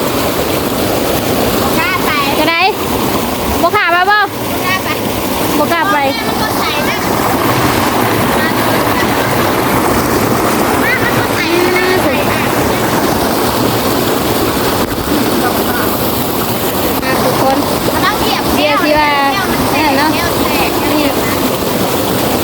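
A rushing waterfall pouring down from a mountain on a jungle hike in Laos makes a loud, steady broadband roar that runs the whole time, with wind buffeting the microphone and people talking over it.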